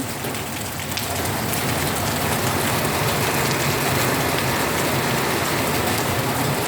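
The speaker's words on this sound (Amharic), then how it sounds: "ዝናቡ ተመልከቱት።" Heavy rain in Saudi Arabia pours steadily onto surfaces close by, heard through a second-floor window, a constant dense hiss with no pauses and a low rumble underneath.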